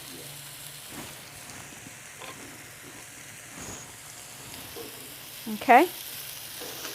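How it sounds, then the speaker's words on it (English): Peppers and onions hit an oil-slicked pan on a hotel hotplate, giving a steady soft sizzle with light stirring, ending in a brief louder clatter near the end; a voice speaks briefly. "So I'm going to go ahead and add in the peppers. I'm going to go ahead and add in the onions."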